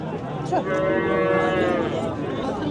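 A cow moos in a drawn-out, mid-pitched call at a busy livestock market in Kattakurgan, with people talking in the background throughout.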